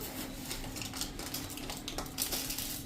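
Spoon stirring citric acid (lemon salt) and salt into water in a vessel, a steady run of light clinking and scraping with no talk.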